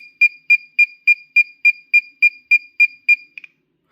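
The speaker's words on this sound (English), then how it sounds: "we'll get the signal from the lock nice and loud to indicate that the waiting period is over" A steady series of ten sharp, high electronic beeps from an Insys Combi 200 Pro safe lock signalling the end of its time delay, even-paced, loud and close, ending with two quick softer chirps.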